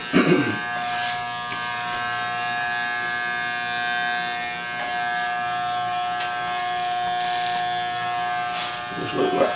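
Electric clippers buzz steadily and close up while shaving a square hairline in a barbershop, a constant high motor hum with brief clicks at the start and the end.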